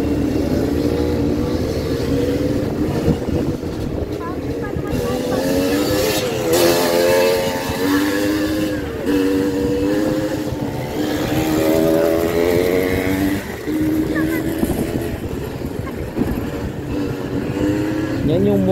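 A Lance 150 farm motorcycle rides along a rough, potholed road, its engine droning steadily close by with rising and falling revs, while people talk over it throughout.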